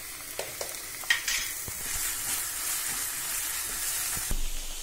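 Ginger garlic paste and salted onions sautéing in a pan over low heat for a prawn curry: a steady soft sizzle with occasional spoon clinks and scrapes as it is stirred, and no one talking.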